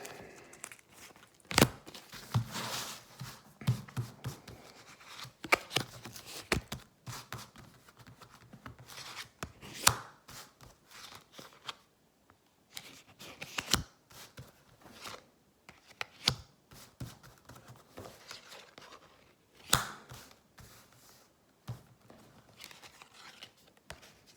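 Tarot cards that stick together being shuffled by hand, a quiet close run of irregular riffling, slapping and sliding bursts with short pauses, alone without talk.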